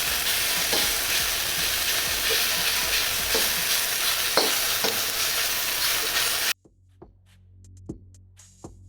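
Beef and noodles pan frying, a loud, close, continuous sizzle with a few sharp clicks and clatters, then it cuts abruptly to near quiet with sparse utensil taps and a faint low hum.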